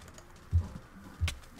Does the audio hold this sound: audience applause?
no